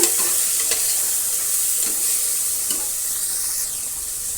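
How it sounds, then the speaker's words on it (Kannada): Ginger garlic paste with chili powder frying in a pan for chicken biryani, a loud continuous sizzle broken by a few sharp scraping clicks of stirring, with no one speaking. "ಶುಂಠಿ ಬೆಳ್ಳುಳ್ಳಿ ಪೇಸ್ಟನ್ನು ಹಾಕ್ತಾಯಿದ್ದೀನಿ ಎರಡು ಫ್ರೈ ಆಗೋಣ ಫ್ರೈ ಮಾಡೋಣ"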